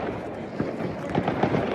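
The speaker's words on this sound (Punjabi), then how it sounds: "ਥਾਂ ਥਾਂ ਤੇ ਆਪਣੇ ਪਟਾਕੇ ਜਿਹੜੇ ਲੋਕੀ ਚਲਾਈ ਜਾਂਦੇ ਆ" Firecrackers going off all over a city at New Year in Germany, a dense, steady crackle with scattered sharper pops and bangs at middle distance, continuous throughout.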